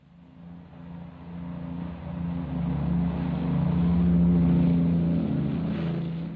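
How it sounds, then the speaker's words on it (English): A 1949-era aircraft takes off from a Heathrow runway, its engine drone rising and swelling steadily at a distance over faint wind, with no talking. "it takes off from the finest runway in the world"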